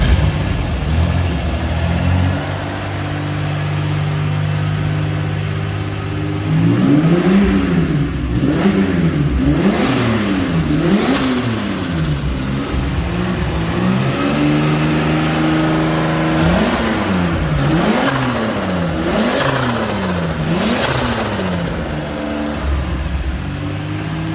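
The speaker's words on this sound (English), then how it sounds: "So you can go rev it then." A Volkswagen VR6 engine fitted with a GT35 billet-clone turbo revs repeatedly, climbing and falling in several close, loud sweeps after a steady idle, with no talking over it.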